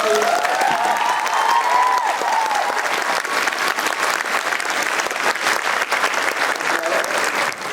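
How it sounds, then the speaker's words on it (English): An audience claps steadily and loudly throughout a panel event at VidCon London 2020, a dense, continuous round of applause that holds its level for several seconds before easing slightly at the end. "So a round of applause for these guys."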